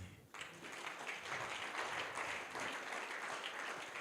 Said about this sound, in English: While still standing with a clapping ovation